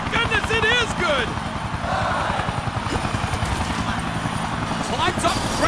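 A helicopter in WWE 2K Battlegrounds gives off a steady, loud rotor chop throughout, mixed with arena game noise, while a voice talks over it.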